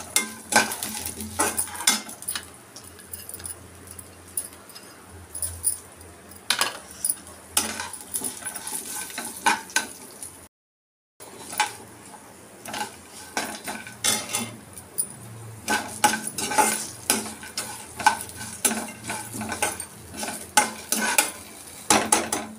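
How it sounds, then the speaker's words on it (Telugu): Sesame seeds roasting in a pan for mint and raw mango chutney, with repeated scraping stirs and light sizzle, the spoon clinking against the pan in irregular bursts, close and without talk. "ఇప్పుడు 2 స్పూన్ నువ్వులు తీసుకున్నాను, దీన్ని కూడా దాంట్లోనే వేసేసి వేయించుకుందాము."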